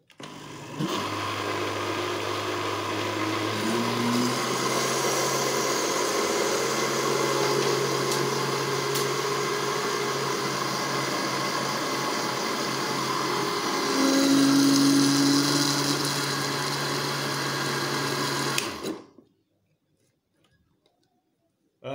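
A blender mixing lemon cake batter whirs steadily at low speed for most of the clip, its motor pitch rising briefly near the end before it cuts off into silence.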